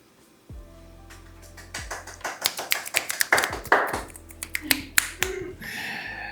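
Someone claps hands at a World Poetry Day devotional, with loud, sharp claps in an irregular burst of several seconds. The claps sound close to the microphone, and other short tones and noises sit around them.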